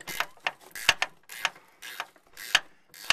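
Socket ratchet on a 14 mm rear strut bolt of a first-generation Mazda Protege, about six quick clicking bursts in an even rhythm, close and clear with no talk.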